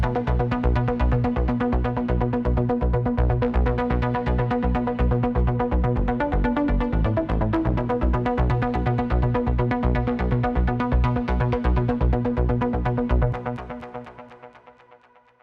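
An electronic synth arpeggio layered with a second synth part on a low B, running in a fast, steady pulsing pattern before fading out near the end.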